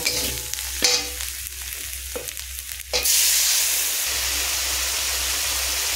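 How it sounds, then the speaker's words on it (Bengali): A masala spice paste frying in a pan, first stirred with soft scrapes over a low sizzle, then a loud rush of steady hissing as water hits the hot pan and keeps sizzling strongly. "এতে জল দিয়ে মশলাটাকে আমি সুন্দর করে কষিয়ে নেব"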